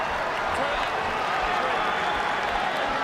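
A stadium crowd at a rugby league match jeers the referee over a tackle, a steady loud roar of massed voices that holds without a break under a commentator's talk.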